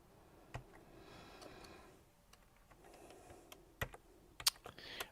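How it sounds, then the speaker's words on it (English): Computer keyboard typing during an astronomy discussion, quiet scattered keystrokes in short irregular bursts with a few sharper louder clicks toward the end, close by against a faint room background. "I was still typing."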